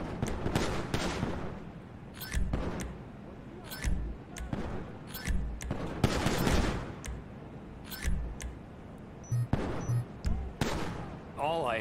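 Gunfire in GTA V arrives as scattered sharp shots and short bursts among game sounds and music, with a voice speaking over parts of it.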